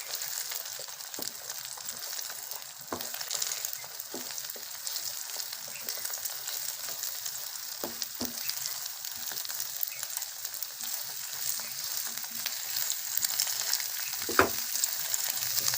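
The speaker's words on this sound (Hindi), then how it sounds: "अब हम इस अंडे को पीसेस में करके तोड़ लेंगे।" Egg frying in a pan while being broken into pieces for masala egg noodles: a steady, bright sizzle throughout, with occasional soft scraping and tapping from the utensil, close and without talking.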